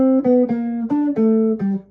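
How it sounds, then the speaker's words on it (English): Guitar picking out a bebop dominant scale lick, a quick run of about eight clean single notes with a steady, slightly uneven rhythm, close and alone with no talk. "this was a bebop cliche that uses the Bebop Dominant."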